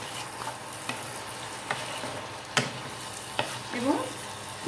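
Ginger-garlic paste being stirred into mutton frying in oil for a Bengali mutton curry, with a soft steady sizzle and a few sharp utensil scrapes and taps spaced through it.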